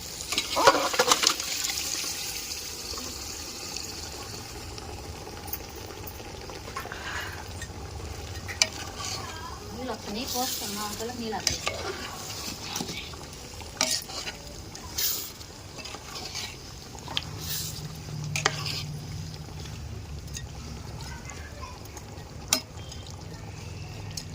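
Chicken pieces fry and sizzle in a pot for chicken biryani while being stirred, with continuous hiss and repeated scraping strokes up close and no speech.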